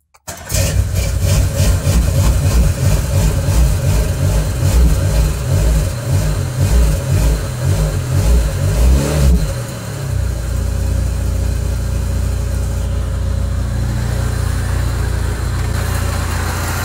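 A car with a water leak at its lower coolant elbow hose cranks and catches, running loud and rough with uneven revving for several seconds, then drops into a steadier, lower idle hum that continues close by to the end.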